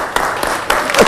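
Audience applause at a live music show among friends, a short burst of clapping rising and falling over about a second, fairly loud and close, with some voices mixed in.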